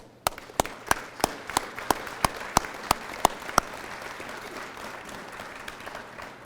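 Sparse applause from an audience at the opening of a new museum exhibit at Colorado Springs Airport: a dozen or so distinct, evenly spaced claps ring out over a quiet room, then fade into low murmuring background.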